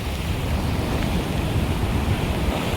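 Steady roar of Arabian Sea waves and surf at Dwarka, where the Gomati River meets the sea, mixed with wind buffeting the microphone, continuous and fairly loud.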